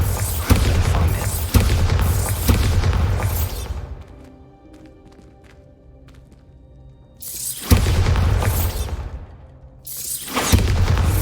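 A Bombarda blasting spell detonates in the Hogwarts Legacy video game, loud booming blasts with shattering debris at the start and end, separated by a quieter stretch of ringing, rumbling aftermath.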